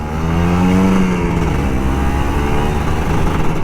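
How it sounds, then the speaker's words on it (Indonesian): A Kawasaki Ninja RR 150 sport motorcycle engine revs hard and loud, its pitch rising and holding in a steady throaty roar, close by with Jakarta traffic noise underneath. "Emang asik ngegas Ninja tuh."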